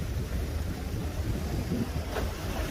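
At Unjin harbour on Jeju, ocean swell and wind make a low, constant rumble and wash, with wind buffeting the microphone and no voices heard.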